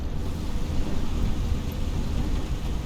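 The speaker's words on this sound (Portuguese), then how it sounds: "só para vocês darem uma olhada numa tempestade" Heavy thunderstorm rain in the Microsoft Flight Simulator 2020 game, a steady dense wash with a low rumble that holds evenly and fairly loud throughout.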